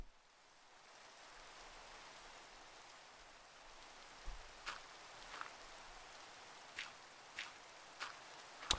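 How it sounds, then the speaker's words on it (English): Steady soft rain falling in Minecraft, a continuous faint hiss with a few brief louder drip-like ticks scattered through the second half. "God, it rains so much."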